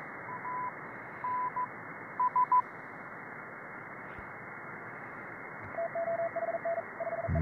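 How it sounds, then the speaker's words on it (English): Morse code tones pip through static on a mediumwave radio receiver tuned above the AM broadcast band, first in slow spaced groups, then a much faster run of short dits and dahs, steady and moderately loud. "more Morse code here. Much faster Morse code actually here."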